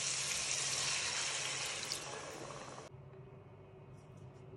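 Water pours into a pot of browned palak gosht (mutton with spinach), a loud steady rushing splash and sizzle that stops abruptly partway through, leaving a quieter simmering hiss.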